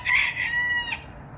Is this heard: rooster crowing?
yes